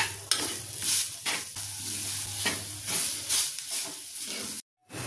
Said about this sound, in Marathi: सगळं मिक्स करून घेऊया